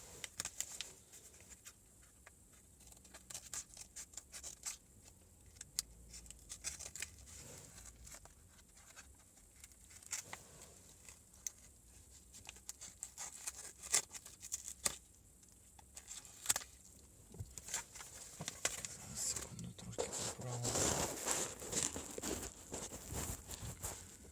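A sealed plastic parcel bag from a Chinese shipment is cut open and torn, giving faint, close crinkling and scattered sharp crackles, with a louder rustling burst near the end.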